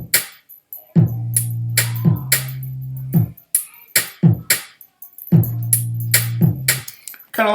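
Two-bar drum pattern played back with two sustained low bass notes: kick and snare-like hits repeat in a steady loop, each bass note held under the drums, then the phrase starts again. No voices.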